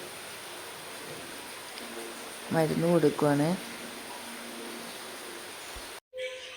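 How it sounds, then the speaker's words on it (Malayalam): Rain falls steadily outdoors in a farm compound, a soft continuous hiss lasting the whole stretch, with a brief voice speaking over it midway. "മഴ വന്നതുകൊണ്ട് ഞാൻ എൻ്റെ വീഡിയോ എടുക്കൽ ഇവിടെ നിർത്തുവാണ്."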